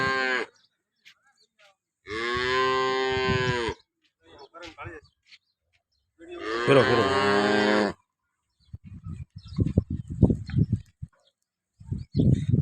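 Two cows on a farm in Banaskantha district, Gujarat, one pregnant and one recently calved, give two long, loud moos, each lasting a second or two. Brief talk follows, with low thuds and rustling.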